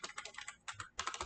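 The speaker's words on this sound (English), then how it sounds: "And here is the typing action." Typing on an Apple keyboard, a newer generation compared against the M2452: rapid bursts of crisp key clicks with a short pause, close and fairly quiet, with no talking.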